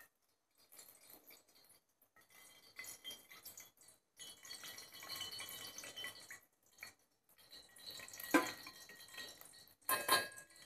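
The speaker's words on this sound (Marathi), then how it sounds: "तेल घालते मी." Cooking oil poured into a freshly washed pot to start a Satara-style mutton curry, with a soft liquid trickle and faint drips, then a few louder clinks of metal near the end; no talking.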